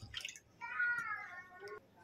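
A cup of water poured from a measuring cup into a pan on the gas stove while making mango kasundi, a short ringing trickle of about a second after a brief clatter, close and fairly quiet.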